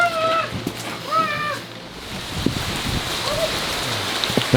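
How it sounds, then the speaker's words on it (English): Rain from the first outer bands of Hurricane Ian falls in a steady, dense patter, while a cat meows a few times near the start and quieter thumps come through the downpour. "The first bands of rain from Hurricane Ian were already on us."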